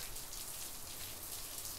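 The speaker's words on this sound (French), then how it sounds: "un soir de pluie lourde" Heavy rain falls on an evening as a steady, dense hiss of drops, even and unbroken throughout, fairly soft and distant.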